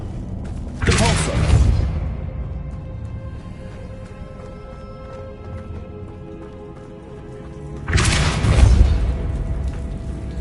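Two heavy Depulso spell blasts in Hogwarts Legacy, each a loud booming burst with a rumbling tail, several seconds apart over a low steady game background.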